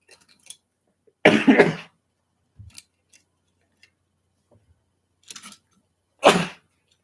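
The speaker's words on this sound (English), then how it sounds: "just had to blow my nose that time" A loud, brief nose blow stands out among a few faint scattered clicks and short noises, followed later by another sharp honk-like blast.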